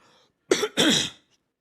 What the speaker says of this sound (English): I have to cough, and I don't want to cough too loud in the mic